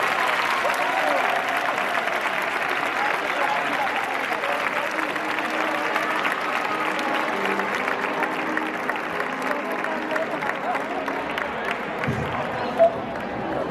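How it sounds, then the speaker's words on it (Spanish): Sustained applause from a large audience at a high school graduation ceremony, dense and even clapping lasting over ten seconds before tapering off. "Un fort aplaudiment."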